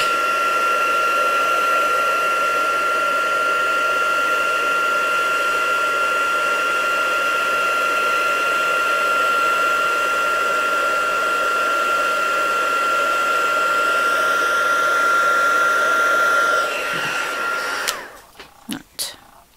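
A heat gun blows a loud, steady whine with a constant high tone while melting embossing powder on a Christmas card, then cuts off near the end, followed by a few clicks and handling sounds.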